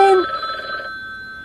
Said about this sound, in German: Telefon, geht mal einer ran.